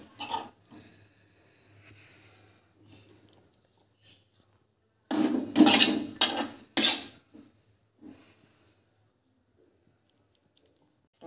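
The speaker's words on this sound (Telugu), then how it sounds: "ఇక్కడ టమాటాలు ఇందులో వేసేసుకోవాలి" Chopped tomatoes tipped into a pan of fried green chillies make a short cluster of close, loud thuds and clattering against the pan midway, with faint kitchen clicks in the quiet around them.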